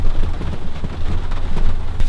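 Rain falls outdoors in Washington State as a loud, steady, broadband patter with low rumbling underneath, continuing without pause for about two seconds.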